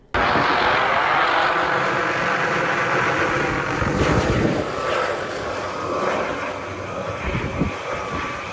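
Helicopter flying near power lines with line workers aboard, a loud, steady, close-up rotor and engine roar that fills the whole stretch.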